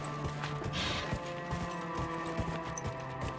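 Horse hooves clip-clop in the Dragon Age video game, a quick series of close hard knocks in a steady gait over a low game ambience.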